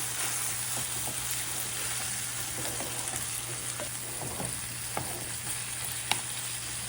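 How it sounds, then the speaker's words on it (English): Seasoned meat sizzling and frying in a pan for baked beans, a steady hiss with faint scraping stirs and a couple of sharp utensil clicks near the end. "I'm going to stir that in"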